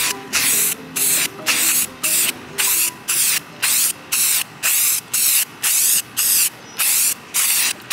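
Spray gun applying bed liner coating onto a fiberglass and birch wood truck panel, loud, close hissing bursts in an even rhythm of about a dozen short sprays with brief gaps between them.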